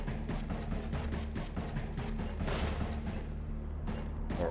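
Video game gunshots ring out in a rapid run of sharp reports with one bigger boom partway through, loud against a steady low game hum.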